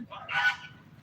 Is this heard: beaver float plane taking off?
no